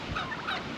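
Bronze turkeys on a free-range smallholding farm gobble in a short, dense chorus, fairly close and moderately loud, with no talking over it.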